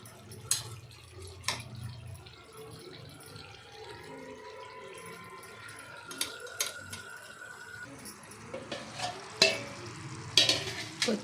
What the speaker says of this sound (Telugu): కొత్తిమీర వేసి కలిపేసానండి